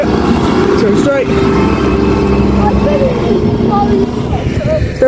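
A tractor's engine rumbles steadily nearby on a rural road, loud and continuous, with some faint whining tones over it.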